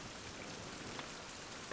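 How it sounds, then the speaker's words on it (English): Steady rain falls in the survival video game Survival: Fountain Of Youth, a dense even hiss of drops on surfaces with a few slightly louder patters, soft and continuous, with no voices. "hopefully all the rain will be gone in the morning"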